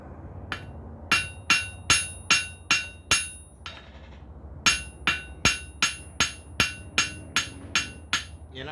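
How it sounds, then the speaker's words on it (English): A small ball peen machinist hammer planishes a forged belt buckle: two runs of sharp, ringing metallic strikes in a steady rhythm, about a dozen blows, close and loud with a short pause between runs. "That's why I like having these small ball peen hammers."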